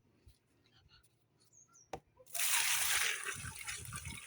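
After a few quiet clicks and one sharp knock, water suddenly pours out in a steady, splashing rush close by into a small drum, continuing to the end.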